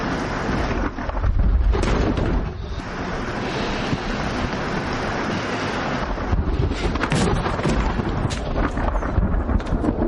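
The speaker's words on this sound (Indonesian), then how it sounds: "ketika suara petir muncul" Thunder rumbles through a stormy film scene, a loud continuous roar with heavy low booms and wind-like rushing noise that swells and fades over several seconds, with no voices.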